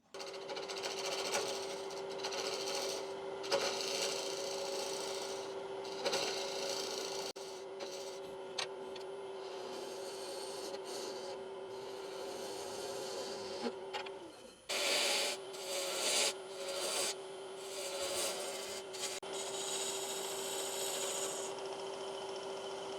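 A wood lathe turns a maple vessel while a tenon is cut on its bottom. Continuous close scraping and rasping over the lathe's steady hum, with a brief pause and choppier cuts in the second half.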